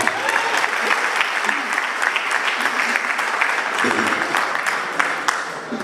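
A crowd at a political gathering breaks into loud, dense applause that holds steady throughout, with occasional sharper claps and voices murmuring underneath.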